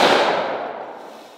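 A pocket pistol firing .45 ACP rounds: a single loud, close blast that decays over about a second, with no voices.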